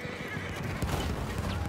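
A horse in the video game Battlefield 1 gives a whinny over a steady clip-clop of galloping hooves, set against dense game noise and rumble.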